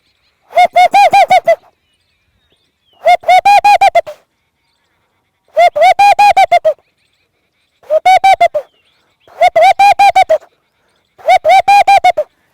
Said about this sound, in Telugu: ఇది దీని తర్వాత అదే పక్షి ఇంకో రకంగా పలకరిస్తుంది చిన్న బెలగాడ అంటారు దీన్ని